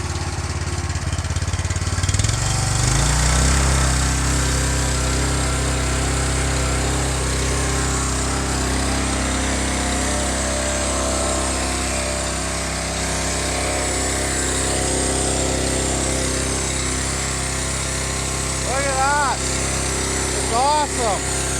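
A small gasoline engine on a pressure washer, started one-handed with the choke then turned off, catches and runs steadily at close range, a loud continuous drone with a rising whine near the end.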